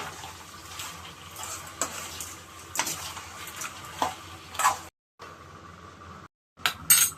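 A spoon stirs turmeric into an onion and tomato mixture in a pan, with soft scraping and gentle sizzling at a low level, near and steady, with brief gaps of silence.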